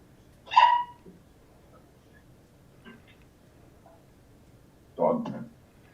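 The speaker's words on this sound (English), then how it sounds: "Dog." A dog barks twice, about four seconds apart. The sharp, nearby barks stand out over a quiet room, with faint soft sounds in between.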